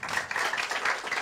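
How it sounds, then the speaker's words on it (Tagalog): A seminar audience at a business owners' orientation claps together, a brisk, continuous patter of many hands at moderate volume with slight pulsing, heard alone without talk. "yung malakas na palakpak"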